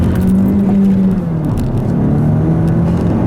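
A 2017 Honda Civic Si Sedan's smaller engine pulls hard in second gear, its loud, steady drone filling the cabin and rising slightly as the car accelerates.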